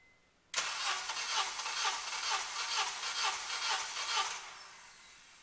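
A Honda Civic R18 turbo engine, fuel cut for a compression test, cranks on its starter in a rapid rhythmic whirring of about nine beats, loud and close, then stops and fades.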